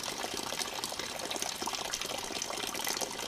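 Water pours steadily into a Sea to Summit 10-liter bucket outdoors on a trail, a continuous close splashing gush with no break.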